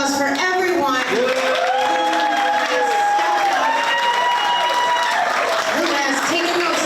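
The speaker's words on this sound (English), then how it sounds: "let's give a round of applause for everyone" Sustained applause from a crowd at a candidates' forum fills the room, with scattered cheers and voices rising over the steady clapping.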